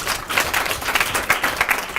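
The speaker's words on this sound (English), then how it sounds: "Young people, give them a big round of applause." An audience applauds young people at the Savannah Youth Council's 2018 graduation ceremony, with dense, steady clapping from a crowd that fills the room evenly throughout.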